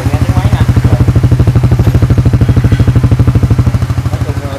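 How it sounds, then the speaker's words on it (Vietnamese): An original, unmodified imported motorcycle engine idles steadily and close by, a fast even putter with a loud, unbroken pulse throughout. "Để cho mọi người nghe tiếng máy"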